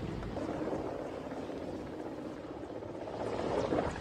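An Indian Air Force helicopter works a forest fire near Nainital, Uttarakhand, its rotor and engine noise a steady, fairly distant roar that swells slightly toward the end and carries no talk.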